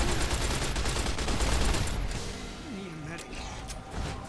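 Rapid bursts of gunfire in the video game Fallout New Vegas, loud and dense over the first two seconds, then easing into quieter rattling and game sounds.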